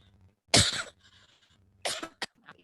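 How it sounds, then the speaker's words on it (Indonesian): A person coughs: one hard, close cough, then a shorter pair of coughs a little over a second later, with quiet in between. "Batuk"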